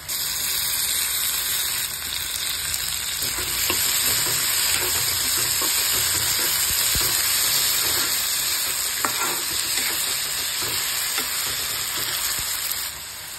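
Soybean curry with tomatoes cooks over a low gas flame, giving a continuous close sizzle and frying hiss with occasional stirring scrapes in the pan. No one speaks.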